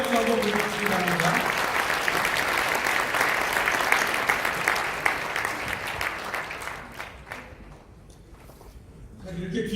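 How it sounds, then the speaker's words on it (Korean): Sustained, loud audience applause at a freedom friendship night for about ninety Truth Forum youth members, dense clapping that tapers off toward the end, with a voice at the close. "저희 청년들 위해서 경례 박수 한번 보내주시기 바랍니다."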